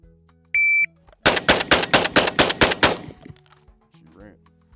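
A rapid string of about eight loud, evenly spaced semi-automatic gunshots from a shotgun or rifle on a timed shooting stage, preceded by a short shot-timer beep and followed by quiet.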